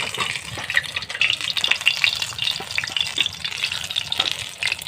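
Tomato and spices fry in a wok with a continuous crackling sizzle and occasional stirring scrapes, close and fairly loud, with no voices over it.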